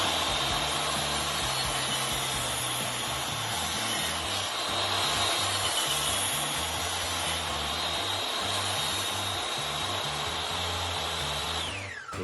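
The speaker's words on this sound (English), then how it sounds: "Now all I have to do is just make a whole bunch of cuts" A saw making a series of cuts into a wood block, a steady continuous loud power-tool whine with a churning low rumble running throughout, no talking.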